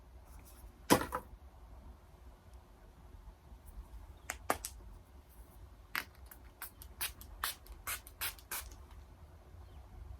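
Sharp spritzes from a spray bottle, one early and then a quick run of several more, close and crisp against a quiet room.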